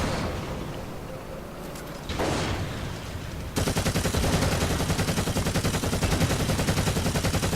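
A tank's main cannon fires in Warhammer 40k Eternal Crusade: one heavy blast, then a long run of rapid, loud, continuous fire and explosions filling the rest of the clip.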